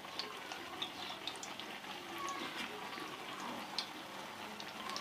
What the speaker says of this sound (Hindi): ये देखें बस मीडियम फ्लेम पर हम इसको फ्राई करेंगे